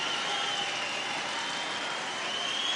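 Crowd at a CWFC Fight Night 11 MMA bout in Jordan, a dense, continuous roar of cheering spectrators filling the arena at steady loudness throughout.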